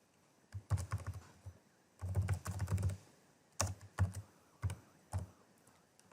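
Bursts of typing on a computer keyboard during a CRM software demo, clicking into boxes and overtyping values; clusters of quick close keystrokes separated by short pauses, fairly quiet and with no voice.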